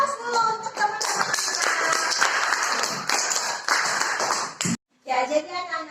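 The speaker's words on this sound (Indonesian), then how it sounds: "Aplaus dulu untuk teman-teman." A classroom of children claps for their classmates, with dense rapid clapping and children's voices mixed in, pausing briefly before more chatter.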